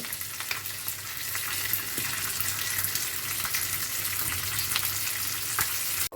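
Mustard seeds, black mustard seeds, curry leaves and a pinch of hing frying in hot oil for lemon rice, a steady close sizzle with crackling pops running throughout.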